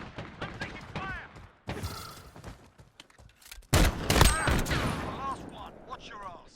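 Gunfire from a Modern Warfare 2v2 match comes in sharp bursts of shots and mechanical clicks, with a louder volley near the end, while a player talks over the action.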